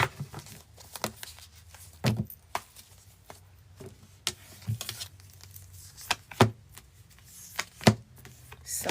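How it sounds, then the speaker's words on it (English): Tarot cards being shuffled by hand, quick crisp riffles and slaps in irregular bursts over a quiet background, close and fairly loud. "Quick shuffle for Leo."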